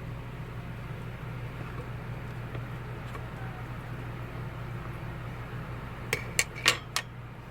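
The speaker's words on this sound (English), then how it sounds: "I'm going to cut it with a fork at this point" A fork cuts through a pita topped with avocado and egg on a plate, giving a few sharp clinks and scrapes against the plate near the end after a quiet stretch of low background hum.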